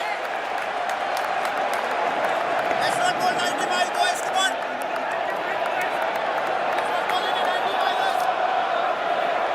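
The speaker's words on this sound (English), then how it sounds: "Not a full crowd by any means, but a lot of noise." A partly filled cricket stadium crowd roars with steady, loud noise during the tense final overs of an England v India Test in 2021, with commentary voices talking over the continuous din.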